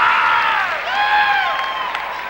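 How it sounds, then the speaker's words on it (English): Arena crowd at a Fort Wayne Komets hockey game at the Coliseum, sustained applause and cheering with rising whistles, loud and continuous. "Crowd getting into it here at the Coliseum."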